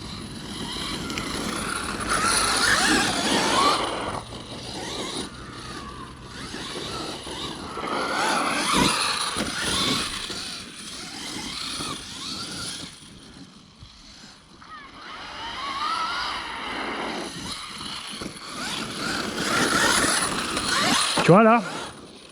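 An FG Baja 12S RC car with a Hobbywing 650kv brushless motor drives off-road, its motor whining and rising and falling in bursts throughout, with a person talking over parts of it.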